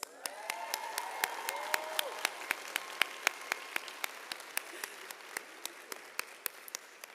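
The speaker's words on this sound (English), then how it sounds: "I love clapping. I love applause. I love to hear it." At a College of Wooster multicultural stole ceremony for the class of 2022, sharp, evenly spaced claps ring out in a steady rhythm over a faint murmur of voices, fairly quiet overall.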